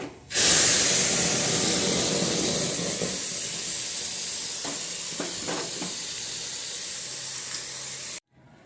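Spices sizzle hard in hot oil as tempering for gongura curry, a loud, steady hiss that fills the whole stretch and then cuts off abruptly.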